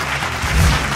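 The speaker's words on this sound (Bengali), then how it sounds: "সবাই করতালি দেই।" An audience claps together at an outdoor volunteer gathering honouring blood donors, a dense, loud burst of applause that swells briefly midway and keeps going steadily with no voices on top.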